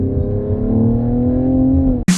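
A 2025 Mercedes-AMG GLE 53 delivers a loud, close, droning exhaust note that holds steady during a downshift, then breaks off into a short sharp burst at the end.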